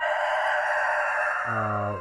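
Exotic-breed chickens kept for breeding crow with a loud, sustained cry that rises in pitch near the end, heard close up over a steady background of farmyard fowl noise.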